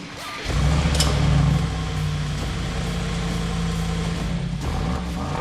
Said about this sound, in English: This is how the car sounds in normal mode.